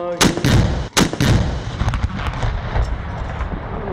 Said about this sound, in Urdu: وفاقی دارالحکومت میں 31 جبکہ صوبائی دارالحکومتوں میں 21 توپوں کی سلامی پیش کی گئی۔